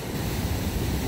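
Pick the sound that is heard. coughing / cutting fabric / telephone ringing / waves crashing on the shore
waves crashing on the shore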